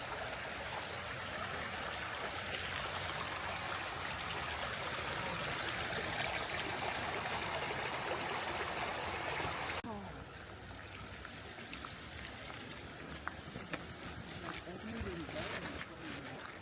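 A creek beside a hiking trail flows with a steady broadband rush of water, continuous and fairly faint, softening slightly partway through.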